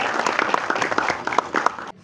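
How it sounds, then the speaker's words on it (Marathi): Dense clapping from an audience at a Marathi film trailer launch event, welcoming a guest, with quick overlapping claps sustained for about two seconds before cutting off abruptly. "एकदा जोरदार सरांसाठी टाळ्या वाजूया"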